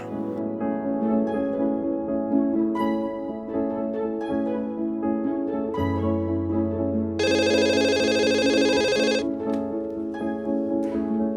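A telephone rings on and on without being picked up, steady repeated ringtone tones over about eleven seconds, loud and close, with a brighter electronic burst partway through and no voices.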